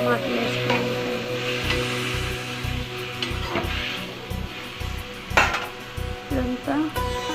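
Tomatoes frying in a pan with green chillies and turmeric, a steady sizzle broken by sharp metal clinks of a spoon against the pan and brief rhythmic scraping, recorded close.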